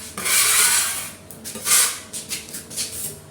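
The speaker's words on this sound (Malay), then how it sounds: "Okay, tempat yang ada ni kena kikis." Peeling paint is scraped off a wall in a few rough, rasping strokes, two longer pulls followed by shorter scrapes, close up and with no talking.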